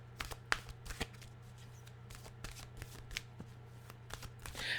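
Tarot cards being shuffled by hand, a quick series of crisp riffling flicks and soft slaps close up, repeating irregularly over a low steady hum with no talking.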